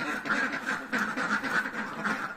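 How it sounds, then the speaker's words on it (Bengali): Several free-range ducks quacking close by in quick, repeated bursts as they are let out to feed in the morning on a village farm in Meghalaya, a lively chorus with no voices. "এখন সকালবেলা হাঁসগুলো ছেড়ে দিয়েছি, খাওয়ার জন্য পুরো ব্যস্ত হয়ে গেছে।"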